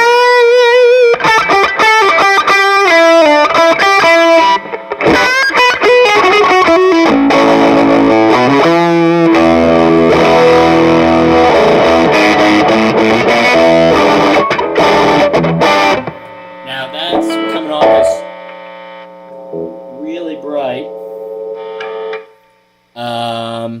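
Electric guitar run through a Skreddy Hybrid Fuzz pedal, an overdrive-leaning fuzz, with the fuzz knob maxed: loud, saturated sustained chords and riffs with thick distortion throughout, thinning toward a few ringing notes at the end.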